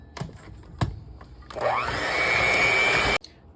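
An electric stand mixer whirs loudly for about two seconds, creaming cookie dough ingredients together for copycat Levain chocolate chip cookies, starting after a few soft knocks and cutting off abruptly.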